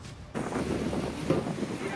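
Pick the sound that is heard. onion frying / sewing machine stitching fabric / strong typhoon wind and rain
strong typhoon wind and rain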